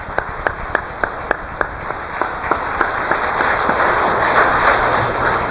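Congregation applause at a church retirement service for deaconesses, starting as distinct, spaced claps and swelling into a steady, dense wash of clapping across the room, with no talk over it.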